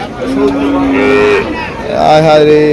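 Cattle and young calves moo in low, drawn-out calls amid a steady murmur of a busy outdoor crowd at a cattle market in Mirshanni, Cumilla.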